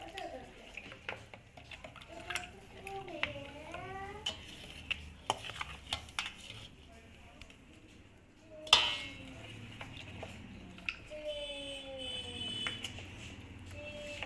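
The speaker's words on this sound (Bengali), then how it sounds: "নেড়ে নেবো এটা।" Poa pitha batter stirred in a pan with a ladle, soft intermittent scraping and clinks of utensil against the pan, quiet and close, with a sharp clatter midway and faint background noise.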